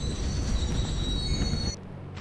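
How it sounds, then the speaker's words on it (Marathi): A train arriving in the Indian Bike 3D driving game, with continuous rumbling rolling noise and high, steady brake squeal that cut off abruptly near the end, leaving a quieter hum. "तर ओके, रेल्वेने ब्रेक सुद्धा मारलेला आहे"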